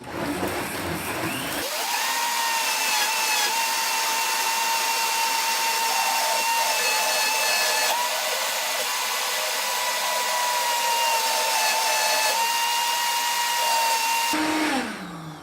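A blender running on high speed whips frozen passionfruit into sorbet, a loud steady motor whine that starts abruptly, holds for about twelve seconds and then cuts off.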